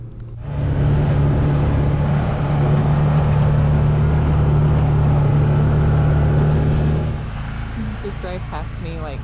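A 2018 Can-Am Maverick Trail side-by-side on a rugged trail, its engine droning loud and steady as it passes close by, then dropping away, with a voice speaking near the end.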